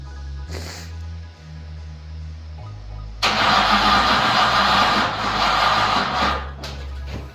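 A Saleen replica car with a weak battery tries to start. After a low hum, the engine catches suddenly and runs loudly close by before settling back.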